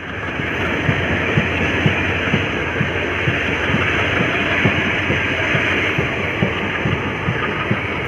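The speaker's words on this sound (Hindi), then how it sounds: "WDM 3D हमारा एक्सेलरेट करता हुआ" WDM 3D diesel locomotive accelerating while hauling an express train, a loud continuous engine roar with steady rhythmic clicking of wheels over rail joints, heard from on board.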